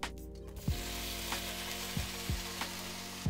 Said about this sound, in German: So, jetzt Pfannenwender nehmen und ganz kurz anrösten.